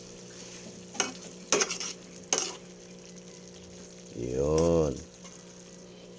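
Adobong sitaw with pork stirred in a hot pan, a few sharp scraping clinks of a utensil followed by a louder burst of sizzling, with a brief spoken word.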